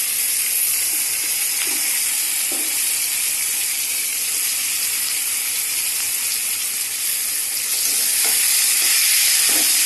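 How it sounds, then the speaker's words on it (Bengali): Egg, potato and green chilli fry in a pan with a loud, steady sizzle and hiss that runs the whole time, marked by a few faint stirring scrapes and no talking. "এই যে ডিম, আলু, কাঁচা লঙ্কা সব দিয়ে দিয়েছি, এগুলো আগে ভেজে নিচ্ছি।"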